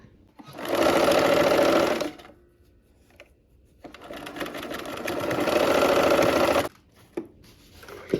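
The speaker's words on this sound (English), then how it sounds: "We're gonna nest those seams in the center and we'll sew that." Sewing machine stitching quilt block seams, running in two loud bursts of steady whirring, the second longer, with quiet pauses and small clicks between.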